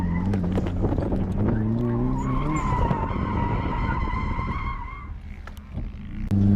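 A car drifting on a track, tires skidding and squealing in long sustained wails over a loud, revving engine roar, close and continuous, fading slightly near the end.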